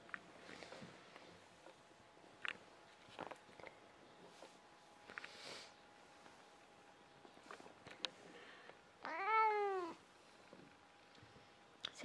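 A domestic cat meows once, fairly loud and rising, near the end, after a stretch of quiet indoor rustling and soft footsteps at home.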